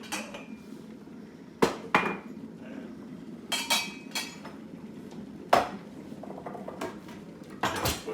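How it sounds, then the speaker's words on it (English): A cup being taken out in a kitchen to make tea, with a series of sharp ceramic and hard clunks and knocks, scattered and fairly close, with quieter rattling between them and no talking. "So I'll just get my cup out."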